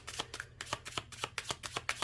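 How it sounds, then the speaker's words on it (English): Tarot cards being shuffled by hand in a quiet room, a steady series of crisp riffling bursts about four times a second, close and moderately loud with no voices. "The more I shuffle, I say patience."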